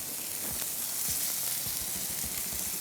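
Beef for gyu tataki searing in a hot pan, a continuous loud hiss and crackle of frying fat with scattered small pops, close and steady throughout.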